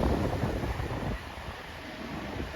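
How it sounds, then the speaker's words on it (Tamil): Sea breeze off the shore at Marina Beach buffets the microphone in a loud, continuous roar of wind, heaviest at first and then easing slightly, with no voices. "கடல் காற்று வந்து செம்மையாக இருக்குது பாருங்கள்"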